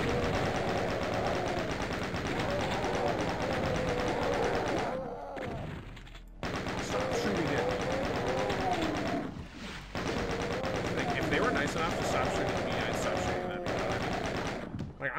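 Rapid automatic gunfire from a video game weapon rattles loudly in long sustained bursts, broken by two brief pauses before resuming, with a voice faintly present underneath.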